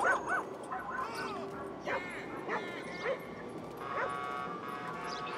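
A dog in a video game gives a string of short barks and yips, several sharp bursts spaced over a few seconds, with speech present.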